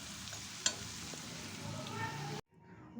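Potatoes frying in oil for mutton biryani, a steady close sizzle with faint stirring and one sharp clink, cutting off abruptly near the end.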